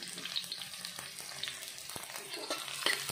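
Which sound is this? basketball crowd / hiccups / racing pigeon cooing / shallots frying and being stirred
shallots frying and being stirred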